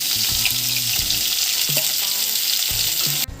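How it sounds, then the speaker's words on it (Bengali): Salted, turmeric-rubbed bhangar fish frying in hot oil, a loud, dense, continuous sizzle heard close up with faint clinks underneath. "এবার নুন হলুদ মেখে রাখা মাছগুলো এর মধ্যে এক এক করে ছেড়ে দিচ্ছি"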